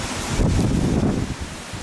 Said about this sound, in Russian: У нас сильный ветер на улице.